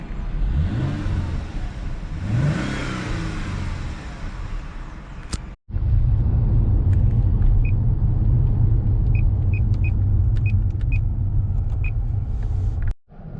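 A Jaguar XJ X350 V6 idles and revs through its twin exhaust pipes, giving a steady deep rumble with a couple of rising revs early on, then a sustained loud drone broken by brief cuts and small clicks.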